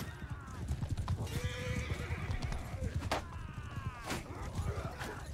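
Horse whinnies and clip-clopping hooves from a mounted battle in Mount and Blade Bannerlord, several loud neighs over rapid galloping with faint battle noise behind.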